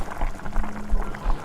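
Ground coconut paste goes into a pot of simmering mutton gravy, a brief close burst of thick bubbling and wet plopping liquid sounds.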